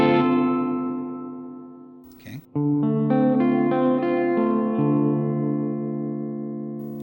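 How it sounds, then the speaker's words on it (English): Guitar chords played through a Donner Verb Square reverb pedal with the tone turned up ring out and decay in bright, shimmering echo trails, with a brief pause before a second strum. "I'm going to turn the tone up so you hear the tone on the echoes"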